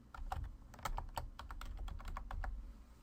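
Typing a file name on a computer keyboard: a quick run of close, crisp key clicks in an uneven rhythm, with no talking.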